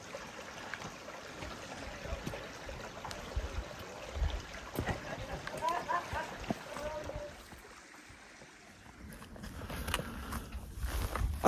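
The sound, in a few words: Cave Creek Wash flowing water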